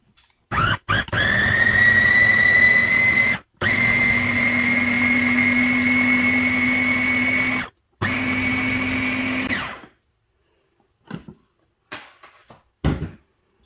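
Blender whirring through lemon, orange, sugar and water for lemonade, a loud steady motor drone in three long runs separated by short stops, followed by a few faint clinks as it winds down.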